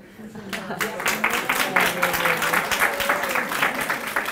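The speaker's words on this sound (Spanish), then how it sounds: "Un aplauso." Audience applause at a seminar on conscious intelligence for business owners and executives, a steady dense wash of clapping that runs for several seconds alongside faint voices.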